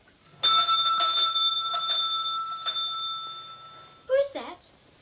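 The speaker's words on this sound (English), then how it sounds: "Answer the bell, Christina." A doorbell rings in a 1950 period house, giving a loud sustained metallic ring with several quick strikes over about three seconds, fading out before a brief spoken voice follows.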